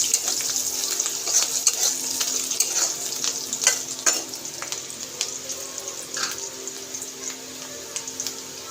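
Onions fry in a pan for a prawn curry, a steady fine sizzle peppered with sharp crackles and intermittent stirring clicks, moderately close and without voices.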